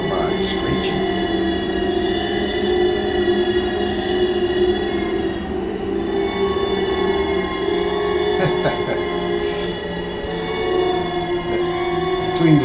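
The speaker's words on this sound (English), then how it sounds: "let that train go by screeching" A Long Island Rail Road train in a rail simulator rolls steadily past, its wheels screeching in sustained high squeals over a constant rumble, with someone talking over it.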